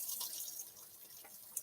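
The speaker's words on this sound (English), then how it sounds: "Let me wash my hands." Hands washed under a running kitchen tap, a faint, steady hiss of flowing water with soft splashes and a small drip near the end, heard close with no talking.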